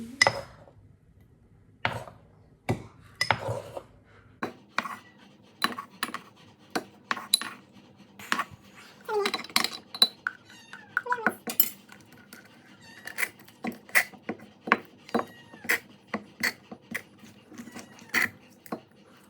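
A metal spoon scrapes and taps against a dish or container while scooping food to fill a syringe, making a string of sharp clinks and clatters at an uneven rhythm, close and fairly loud with quieter handling noise between them.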